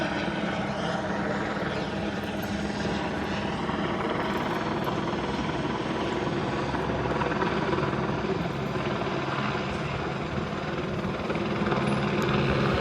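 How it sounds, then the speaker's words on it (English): A police helicopter hovers overhead near a burglary-in-progress police perimeter, its rotor chop a constant loud rumble that fills the whole stretch, steady without fading or passing, with no voices over it. "that helicopter is just hovering rather than circling"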